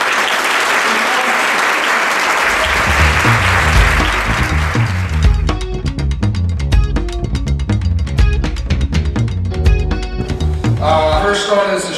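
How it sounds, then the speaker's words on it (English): An audience claps for a man being thanked, a loud and sustained round of applause. Music comes in partway through and plays under the clapping. "this man needs a round of applause because he helps me"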